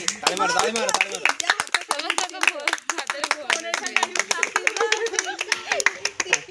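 Hands clap in a fast, steady rhythm at a birthday celebration, loud and close, while several voices sing and talk over the claps throughout.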